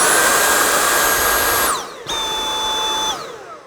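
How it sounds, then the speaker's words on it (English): A Dyson V8 cordless vacuum cleaner runs at high suction with a loud, high-pitched motor whine that winds down, restarts at a lower steady pitch and then fades. "So you can hear the difference. It does make a huge difference to the suction"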